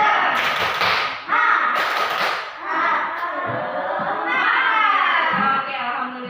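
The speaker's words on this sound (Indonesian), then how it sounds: "Kita tepuk semangat dulu ya." A classroom of children does a rhythmic spirit clap, with sharp bursts of clapping mixed with loud group chanting in children's voices that carries on in a sing-song pattern throughout.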